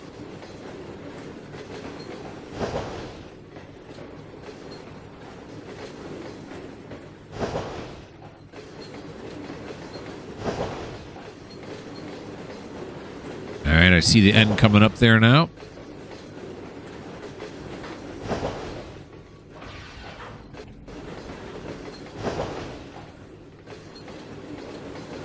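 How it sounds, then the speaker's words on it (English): A long freight train of TTX well cars rolls past in the video game Trainz 2022, a steady rumble with periodic rhythmic wheel clacks and one loud squealing burst, while someone talks over it. "This is a long train."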